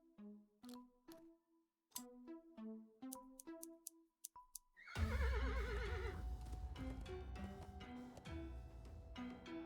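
A horse in the adventure game Willy Morgan and the Curse of Bone Town whinnies in a series of short, clear neighs with clip-clop ticks, followed by a louder, longer burst of agitated neighing over a dense game sound bed.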